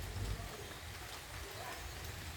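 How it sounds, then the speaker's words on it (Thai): Soft, steady rain patters on surfaces while the sun shines, a faint continuous hiss with a low rumble underneath and no clear voices. "ข้างหน้าฝนตกแดดออก"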